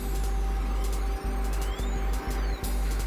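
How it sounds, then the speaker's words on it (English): Roadside bus stop at the end of a covered walkway, with buses and trucks passing close by: a steady heavy engine rumble, repeated hissing air-brake bursts and a faint beeping, with no talk. "So this is the bus stop you're going to take your bus from."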